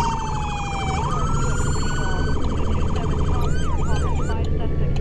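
Police car siren in the Roblox game Maple County, a loud wailing and yelping electronic siren cycling up and down in pitch, close and continuous over a low engine rumble.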